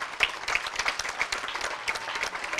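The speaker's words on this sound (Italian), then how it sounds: "fatemi un applauso" Audience applause at a youth football school's end-of-season party: a burst of many hands clapping, fairly close and steady across the whole stretch, with no talking over it.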